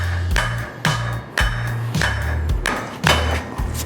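A pickle fork is hammered in to separate a vehicle ball joint, giving about six loud, evenly spaced metallic strikes with ringing thuds, close by and with no talk.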